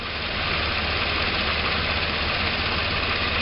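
Car engine idling smoothly after a cylinder 2 misfire repair, a steady, even rumble held close and loud for the whole stretch with no talk.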